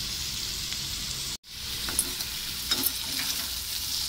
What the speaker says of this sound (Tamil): கொஞ்சம் நல்லா ஃப்ரை ஆகட்டும்